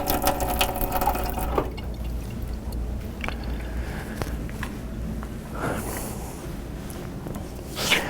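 Running water rinsing out a lab cuvette during jar testing, a steady close splashing and trickling throughout with occasional glassy knocks and handling noises.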